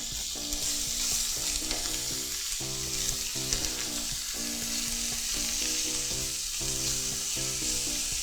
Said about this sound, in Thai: ผมก็จะเอาหน่อไม้ฝรั่งนะครับลงไปทอดด้วยเลย